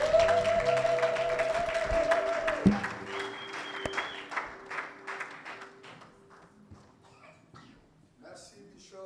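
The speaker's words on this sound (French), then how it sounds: "Nous pouvons encore une fois donner des acclamations très très fortes." Applause and cheering rising from a church congregation during a worship assembly, loud at first after a sustained organ or keyboard tone, then thinning into scattered clapping and crowd noise.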